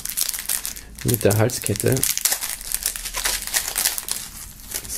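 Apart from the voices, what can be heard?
crinkling plastic foil wrapping being removed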